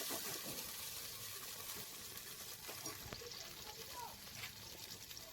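Cashews and raisins frying in a pan with whole cardamom and bay leaf, a steady close sizzle and bubbling of oil with light stirring scrapes throughout.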